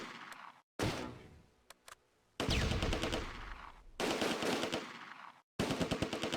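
Wartime battle gunfire and mortar fire in the Close Combat A Bridge Too Far game at Groesbeek Heights during Operation Market Garden: loud, close machine-gun bursts and rattling volleys, broken by brief gaps and sharp single cracks.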